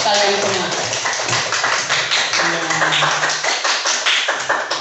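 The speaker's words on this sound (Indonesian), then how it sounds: "Tepuk tangan untuk kalian semua" Schoolchildren in an elementary classroom clap together, a dense, steady patter of many small hands close by, with voices and chatter mixed in beneath the clapping.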